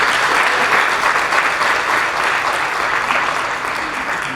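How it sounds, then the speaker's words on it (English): Steady, dense applause from a large crowd at an oratorical contest, loud and sustained throughout without a break. "Let's give them a round of applause."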